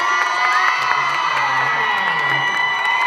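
An audience at a live stage show cheers and screams loudly, with high-pitched shrieks and whoops rising and falling over continuous crowd noise.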